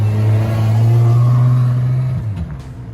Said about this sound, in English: The roar of engines echoes through Monaco's sun-drenched streets